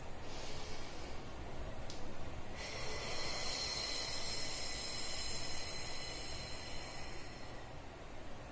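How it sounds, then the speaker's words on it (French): Slow, deep breathing heard close up as a steady airy hiss that swells and fades, with no speech. "prendre des respirations lentes et profondes"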